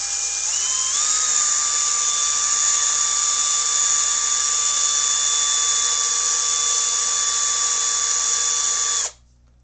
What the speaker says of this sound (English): if you have a cordless drill, you can chuck this in your drill